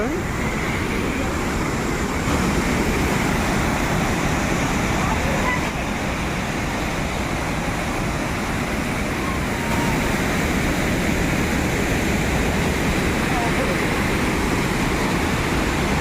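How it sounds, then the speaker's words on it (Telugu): Steady roar of Hogenakkal Waterfalls in Tamil Nadu, loud and unbroken broadband rushing water throughout, close by and dominating everything else. "వాటర్ ఫోర్స్ అయితే మామూలుగా లేదు"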